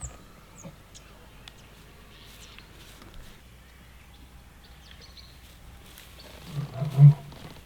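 Distant low lion roars rise near the end over quiet outdoor ambience with faint bird calls and rustling, on a game drive at Londolozi.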